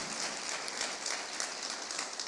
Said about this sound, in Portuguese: Vamos dar um forte aplauso, meus amados